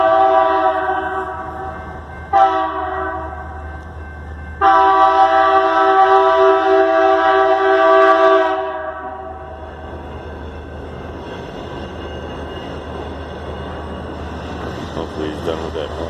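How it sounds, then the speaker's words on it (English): A train horn blasts loud and close in three long held blasts, the middle one brief, and then gives way to the rumble and rattle of the train rolling past. "when this train goes by, you'll hear why, because it's loud as can be."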